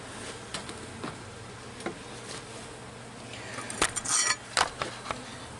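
Honey bees hum steadily around an open hive during an inspection, with a low continuous drone and occasional close buzzes and light clicks of frames or tools.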